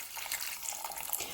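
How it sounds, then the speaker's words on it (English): Beef broth poured from a container into a stew pot on the stove, a steady splashing liquid pour heard up close, with no talking. "I'm going to add my beef broth"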